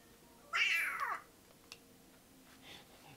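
Cat meowing in the video game Astral Chain: a single clear, loud meow with a falling tail, followed by faint game sounds, with no talking.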